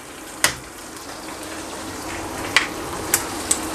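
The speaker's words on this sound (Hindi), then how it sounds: "चिकन को मैं अच्छी तरह फ्राई कर लेता हूँ" Chicken fries with fresh garlic in a pan, giving off a steady, soft sizzle. Several sharp clinks of a utensil against the pan break in at intervals.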